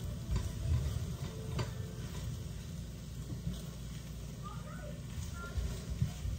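Eggs cooking in a pan, a steady soft sizzle with faint scraping and ticking from the pan, continuous and fairly close throughout.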